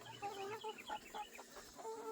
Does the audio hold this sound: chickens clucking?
yes